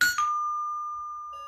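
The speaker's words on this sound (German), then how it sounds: "Ich klingel nochmal." A Heidemann wireless door chime sounds one clear ringing tone, sustained and slowly fading, after a brief click at the start. A second softer tone joins near the end. No one speaks.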